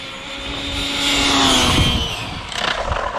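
A 6S Traxxas Rally RC car's electric motor whines under power, rising in pitch and loudness to a peak, then easing off amid rough rumbling and gravelly crunching near the end.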